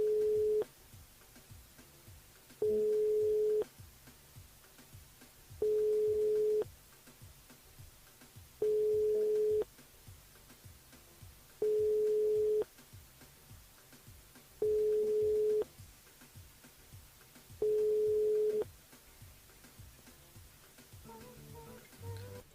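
A telephone busy signal sounding while calling a radio station switchboard, a steady tone repeating in regular on-off pulses about every three seconds, faint under low background noise.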